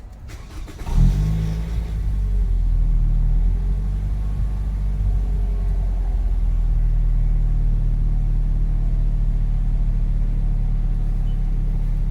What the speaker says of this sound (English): And then we'll start the car and I'll show you.